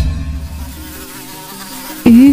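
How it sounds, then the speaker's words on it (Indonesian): Flies buzzing around a dirty food cart, a thin whining hum that wavers on and off, then one fly swoops close with a sudden loud burst. "Ih, itu lalat dari mana?"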